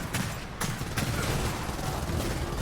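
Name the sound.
single-fire Marksman Rifle shot in Gears of War 4 (video game)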